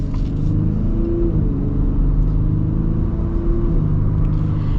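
A steady, deep engine rumble from inside a moving 2025 Chevrolet Silverado ZR2 Bison pickup truck, constant and loud with a low droning hum throughout.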